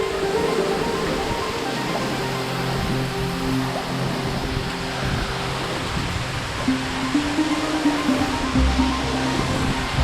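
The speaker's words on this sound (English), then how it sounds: "Right now I'm in this, underneath the waterfall, kind of like in the cave a little bit." Steady roar of a waterfall heard from inside a small cave directly beneath it, a dense, continuous rushing wash that stays loud and unbroken throughout.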